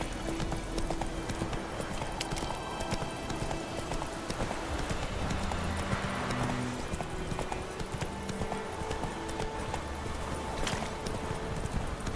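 In The Witcher 3, a horse gallops with steady, rhythmic hoofbeats that carry on continuously and moderately loud over the game's ambient background sound.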